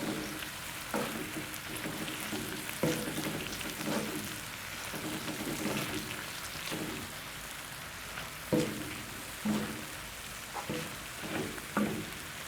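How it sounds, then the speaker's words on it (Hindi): Whole dried coriander seeds frying in hot oil for tawa chicken, a steady crackling sizzle with scattered sharper pops throughout, moderately close and without any talking. "इनको थोड़ी देर फ्राई करें।"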